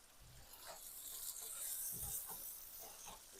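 Boiled potatoes browning in a frying pan give a faint, steady sizzle and hiss, with a few soft scrapes and clunks of stirring.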